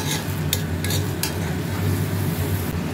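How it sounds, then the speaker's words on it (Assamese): Duck meat frying in a pan gives a steady, close sizzle under a low cooking hum, with a few sharp scrapes and clinks of a utensil stirring the meat. "এতিয়া ভাজি আছোঁ"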